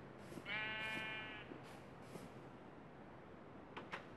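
A single sheep bleats in the Minecraft video game, one wavering, nasal bleat lasting about a second, followed by soft clicks and thuds in otherwise quiet surroundings.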